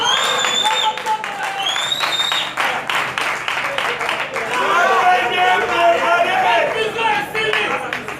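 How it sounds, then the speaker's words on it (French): Audience applause and cheering at a ministers' conference, a steady dense clapping wash with shouts that runs throughout, under a loud voice and singing-like vocal lines. "Acclamons très fort."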